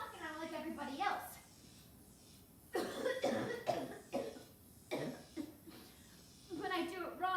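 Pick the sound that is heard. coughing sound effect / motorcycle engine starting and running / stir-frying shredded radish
coughing sound effect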